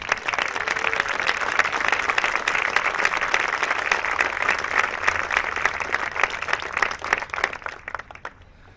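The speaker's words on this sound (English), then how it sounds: "Let's give them a round of applause." An audience at a military cadet parade applauds steadily, sustained dense clapping from many hands that holds for several seconds before starting to thin out at the end.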